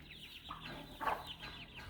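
Several chickens cluck in a small home poultry pen, with chicks present, a steady run of overlapping clucks and short calls close by, no talk.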